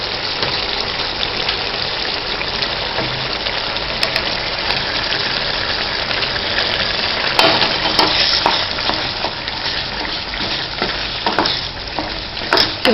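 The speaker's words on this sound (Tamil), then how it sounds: "கிண்டி விட்டு இந்த வெள்ளமும் கொஞ்சம் கரையணும்" Raw mango jam with jaggery being stirred in a pan, heard as a steady dense sizzle and scraping hiss that stays loud and continuous, with faint clicks of the spoon near the end.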